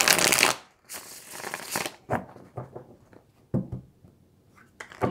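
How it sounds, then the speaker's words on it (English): Cards are shuffled in quick riffling bursts, followed by a series of softer taps and flicks as the deck is handled up close. "Let me give it a good shuffle here."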